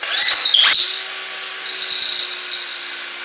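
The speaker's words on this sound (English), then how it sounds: "I'm going to take a 1/2 inch drill bit, the same drill bit I used to do this one, and make a hole going all the way through this piece." A drill boring a half-inch hole through a wooden table-leaf piece, a short loud burst of whining drilling that drops to a quieter, steady motor hum, with no voices.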